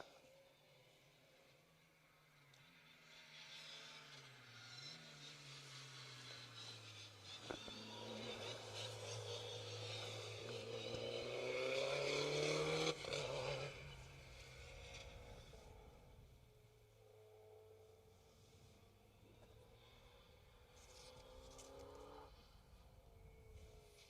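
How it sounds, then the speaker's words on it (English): Distant rally cars whine and rev on a rally special stage, rising in pitch and swelling louder over several seconds before fading, with a faint rushing background. "You may be able to hear the screaming of rally cars in the distance."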